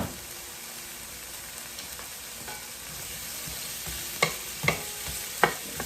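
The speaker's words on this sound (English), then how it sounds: "Drop my onion first. I'm gonna drop my onion." Chopped onion frying in olive oil for Jamaican-style chorizo pasta, a steady close sizzle with a few sharp clinks of a utensil stirring the pan toward the end.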